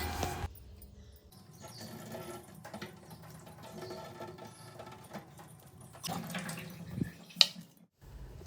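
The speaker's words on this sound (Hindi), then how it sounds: "तो अब इसको भी अच्छे से हम इसका पानी निकाल लेंगे।" Water drains out of grated bottle gourd held in a strainer, a steady close trickle and splash with a few louder spatters near the end, and no talking.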